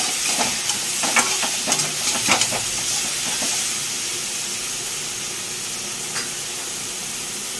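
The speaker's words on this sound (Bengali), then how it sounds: "লবণগুলো দিয়ে দেবো, তার সাথে দেবো একটু হলুদ, ভালো করে নাড়িয়ে চাড়িয়ে" Salt and turmeric being stirred into food in a pot over a home stove, a spoon scraping and clinking a few times over a steady steamy hiss that settles into an unbroken sizzle.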